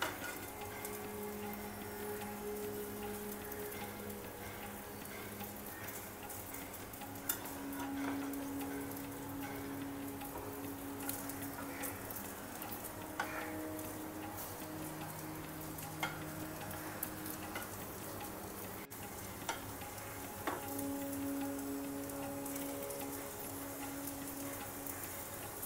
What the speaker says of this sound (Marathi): भेंडी परतताना देखील घाई करायची नाही, ती हळूहळू अशी परतून घ्यायची